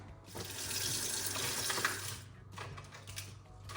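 Tap water runs steadily into a kitchen sink while peeled boiled chicken eggs are rinsed, a continuous close splashing stream with a brief dip partway before resuming.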